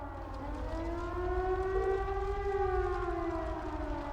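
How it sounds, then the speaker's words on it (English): Civil defense style siren sounding in the video game The Legend of Heroes: Trails of Cold Steel, a steady wailing tone that rises and holds, loud and continuous with no talking. "It's never good to hear a siren."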